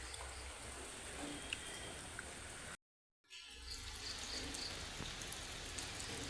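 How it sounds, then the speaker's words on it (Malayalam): Rain falling steadily outdoors, a constant, fairly soft wash of drops and patter that continues unbroken except for a brief cut to silence midway, with no one speaking. "നല്ല മഴ നമ്മുടെ ഇവിടെ"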